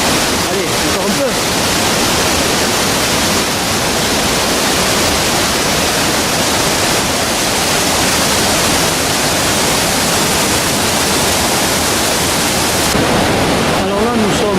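Loud, steady roar of the Val de Molieres waterfall cascade, with broadband rushing water filling the whole clip continuously and close by.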